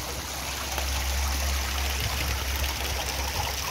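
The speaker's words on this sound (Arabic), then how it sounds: "الماء موجود هنا، أول ما خارجة من الجبال" A mountain stream flows down near its source, giving a steady, close rush of water with a constant low rumble and no voices.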